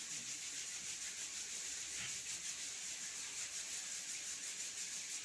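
Hands rubbed together hard and fast to build heat, a steady close-up friction hiss that holds evenly throughout without pause.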